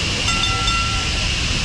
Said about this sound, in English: Here we have the Taksim tram number 2.